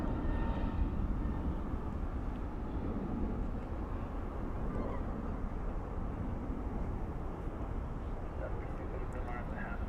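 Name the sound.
Skywest CRJ 700 jet departing to St. Louis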